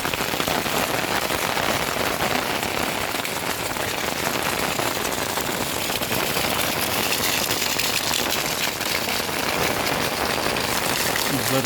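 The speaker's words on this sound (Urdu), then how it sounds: "تو آپ دیکھیں بارش کا نظارہ۔" Steady rain in Duki, Pakistan during the spring season, heard from beneath an umbrella: a dense, continuous hiss of drops pattering loudly on the fabric overhead, unbroken from start to finish.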